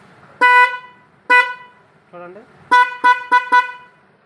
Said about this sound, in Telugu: చూడండి, హార్న్ అయితే సౌండ్ చెక్ చేస్తున్నామండి.